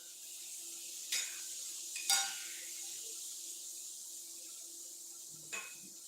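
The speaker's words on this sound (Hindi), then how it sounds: "आलू जो है हमारा फ्राई हो रहा है, देख सकते हैं। डीप फ्राई करना है ना।" Potatoes deep frying in oil give a faint, steady sizzle, broken by a few brief louder splashes and stirring sounds.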